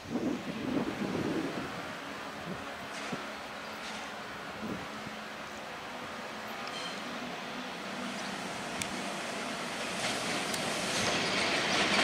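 A train rolls into the siding track beside the entrance of St. Moritz station, a steady rumble of wheels and cars with faint squeals and a rising wind-like hiss toward the end.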